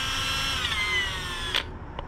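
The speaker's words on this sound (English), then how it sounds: "You don't want the drill to be spinning too fast" A power drill, used for headlight restoration, whines at high speed, its pitch sliding slightly downward before it winds down and stops, followed by a short click.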